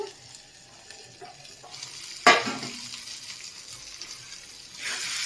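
A spoon scrapes and stirs through potato curry in a sizzling pan, with one sharp clatter partway through. A soft, steady frying hiss runs underneath, and no one speaks.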